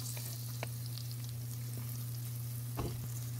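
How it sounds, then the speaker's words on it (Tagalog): Garlic and onions fry in hot cooking oil for beef kare-kare, a steady soft sizzle with a few faint stirring clicks and a low constant hum beneath, quiet and close. "At ako nagpainit ng mantika at naglagay ng bawang."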